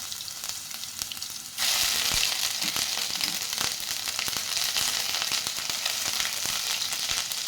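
Chopped ginger hits hot oil already used for frying chicken and garlic for a chicken roast; a softer crackle jumps suddenly into a loud, dense sizzle that holds steady with scattered pops and stirring.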